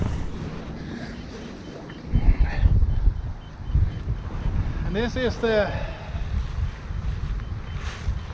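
Steady wind on a sailing trip at Korsfjorden rumbles and buffets the microphone throughout, with someone speaking briefly over the gusty roar.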